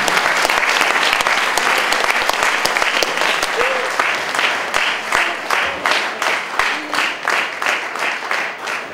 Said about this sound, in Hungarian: Egy tapsot polgármester.